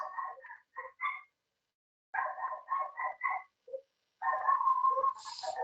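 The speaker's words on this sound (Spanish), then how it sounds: "son mis perritas que están ladrando a todo lo que dan" Pet dogs bark in repeated bursts, quick clusters of sharp barks separated by pauses, then a longer run of continuous barking, heard at a moderate distance indoors.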